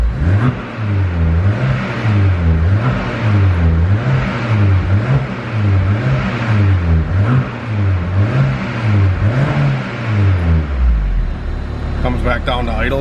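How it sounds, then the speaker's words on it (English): Turbocharged Honda K24 engine in an EP3 Civic revving repeatedly in steady, rhythmic rises and falls, loud and close, then dropping back toward idle at the end. "Wow, now it revs good."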